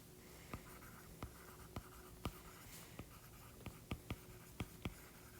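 Pen strokes on paper, written by hand during a physics lesson, come as a series of short, sharp ticks spaced irregularly across a quiet room, close and clear with no voice.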